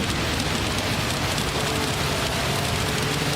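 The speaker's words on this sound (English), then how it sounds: "This is torrential rain" Torrential rain falls during a Gr.2 race at Suzuka in Gran Turismo 7. The dense, steady hiss of heavy rain is loud and unbroken, with a faint engine drone underneath and no speech.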